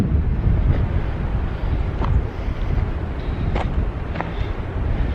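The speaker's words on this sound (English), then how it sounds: "nice rough seas down here" Rough sea waves churn and break against the coast while steady wind buffets the microphone in a constant, loud roar. Occasional faint higher splashes and hisses rise above the surf.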